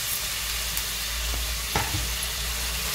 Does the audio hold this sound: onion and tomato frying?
yes